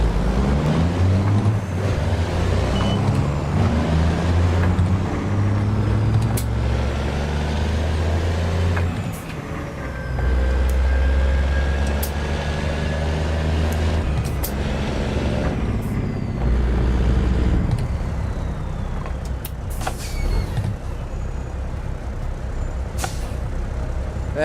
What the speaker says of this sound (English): Gearbox whining, that's violent.